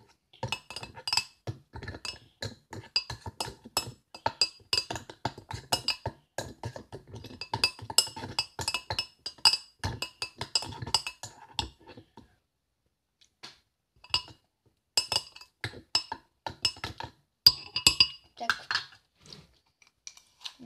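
A spoon stirs sugar into a glass of fruit and vegetable cocktail, giving rapid, steady metallic clinks for about twelve seconds, then a short pause and a few more scattered clinks, close by.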